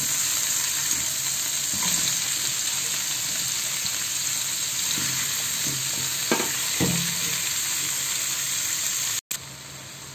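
Chopped onions frying in a pan while being stirred, a continuous loud sizzle with occasional scraping stirs and a brief cut near the end.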